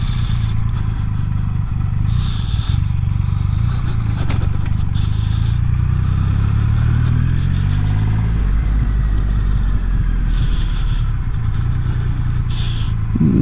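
A Triumph Rocket 3 motorcycle is ridden at low speed on a dealership test ride, its big engine giving a steady loud rumble that rises and falls with throttle, with wind buffeting and occasional clatter over it.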